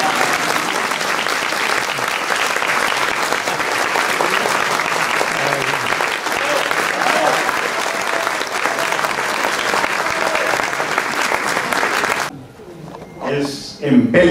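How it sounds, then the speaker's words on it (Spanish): A concert audience at a Colombian string ensemble performance in Bogotá fills the room with sustained, dense applause for about twelve seconds before it cuts off abruptly, and a voice then begins speaking. "Y un buen aplauso, ¿verdad?"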